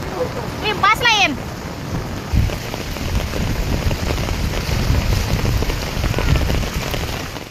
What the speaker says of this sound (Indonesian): Hujan dengan intensitas tinggi juga memicu longsor di sejumlah titik